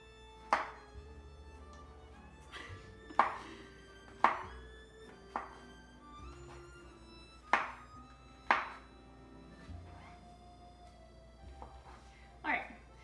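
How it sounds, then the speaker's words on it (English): A kitchen knife cuts mushrooms into small cubes on a board, landing about ten separate sharp knocks at uneven intervals. A person talks over the cutting throughout. "So I'm gonna try to make it into little cubes."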